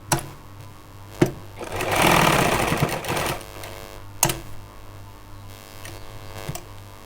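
A sewing machine stitches a mobile phone pocket onto trousers in one steady burst of running, with sharp clicks before and after and a low mains hum throughout.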